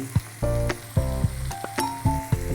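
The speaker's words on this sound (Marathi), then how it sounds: "5 मिनटं आपण आता चांगलं फ्राय करत ठेवूया." Surmai fish, Goan Portuguese recheado masala style, frying in a pan, a loud close sizzle laced with repeated tonal squeaks and scrapes of the pan, with no talking.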